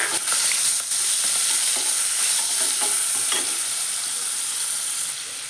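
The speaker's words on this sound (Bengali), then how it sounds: "তেলটা গরম হয়ে গেলে তার মধ্যে দিয়ে দেব একটু লবণ আর একটু হলুদের গুঁড়ো দিয়ে একটু মিশিয়ে নিয়ে চিংড়ি মাছগুলো দিয়ে" Prawns fry in hot oil with salt and turmeric for a pumpkin prawn fry, a loud, dense, continuous sizzle with a few light clicks of a spatula, close and steady throughout.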